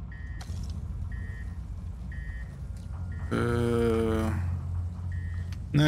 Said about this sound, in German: Es piepst ganz heftig.